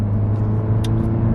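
Tuned 11th gen Honda Civic Si with a 1.5 liter twin scroll turbo and a muffler delete, accelerating under light throttle, a steady low engine drone heard from inside the car, brief and unbroken.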